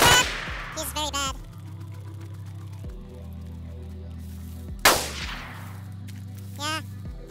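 Video game gunfire in DayZ, with two bursts of rapid shots at about 0 and 5 seconds, each sharp onset trailing off, plus a few scattered single cracks and a steady low hum underneath; a voice talks now and then between the shots.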